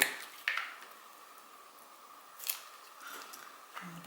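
Scissors snip through a purple doily a few times, with sharp crisp cuts spread across a quiet stretch, close up and fairly soft.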